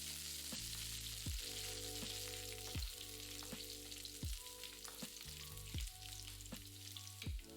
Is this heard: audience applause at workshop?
no